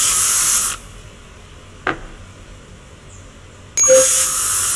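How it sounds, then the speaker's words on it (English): Two bursts of hissing aerosol penetrating fluid sprayed on rusty muffler clamps, one at the start and one at the end, with a short metallic clink in the quiet gap between. "Spray the rusty muffler clamps with penetrating fluid now."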